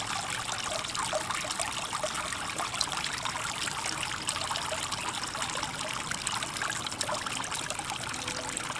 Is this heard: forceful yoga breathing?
no